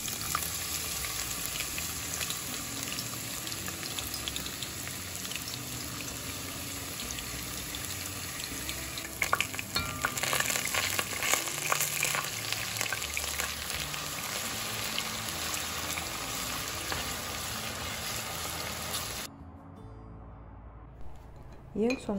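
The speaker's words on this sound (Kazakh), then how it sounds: "Картопымыз құрғаған соң қызып тұрған майда қуырып аламыз." Grated potato fries in hot oil with a continuous close crackle and sizzle, light clatter of utensils mid-way, before the sound cuts to near quiet at the end.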